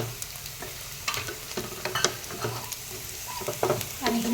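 Chicken curry with a little water just added is stirred in a pan, giving scattered scrapes and knocks of a spoon over a low, soft bubbling sizzle, fairly quiet and close.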